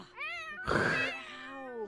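A cat in the video game The Sims 4 meows in a long wavering cry. A brief noisy burst of game sound comes midway, and the cat meows again softly over it.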